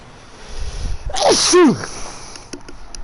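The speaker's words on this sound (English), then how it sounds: "the one thing about sneezing that's annoying is when you're trying to sneeze" A single loud, close human sneeze with a quick sharp inhale and explosive burst, heard against quiet background ambience during a Onimusha: Warlords gameplay session.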